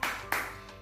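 Two sharp group claps about a third of a second apart in a rhythmic cheer at a community session, with brief room decay after each.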